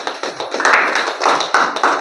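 A small audience at a seminar claps in a short burst of quick, close, uneven claps lasting about two seconds.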